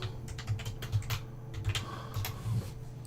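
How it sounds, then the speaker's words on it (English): Fingers tapping out a short phrase on a computer keyboard, a quick uneven patter of close, crisp key clicks over about three seconds with no voice. "I'll just type 1 hour gap."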